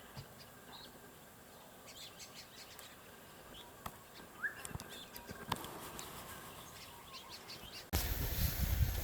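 Scattered bird chirps and calls ring out over a quiet outdoor background at a riverside camp in outback Queensland, sparse and somewhat distant. A louder rushing noise takes over near the end.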